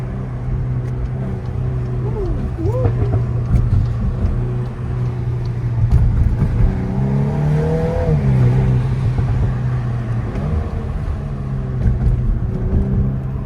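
A Volkswagen Golf 8 R engine revs and accelerates, rising and falling in pitch through several gear changes, loud and close, with rattling and road noise throughout.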